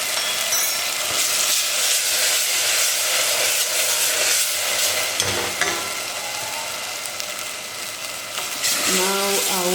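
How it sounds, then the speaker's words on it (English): Tomatoes cook in a hot pan with a steady sizzle and hiss, broken by scraping stirs; near the end a voice speaks briefly over the frying. "we let the tomatoes to cook a bit"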